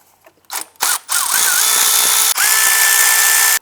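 An 8mm socket on an extension spins out a bolt on a 2004-2008 Acura TL during knock sensor replacement: a few short clicks, then a loud, steady powered whir that runs almost unbroken.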